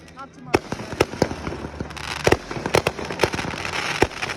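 Fireworks explode nearby in a rapid, irregular string of sharp cracks and pops, while people talk and react over them.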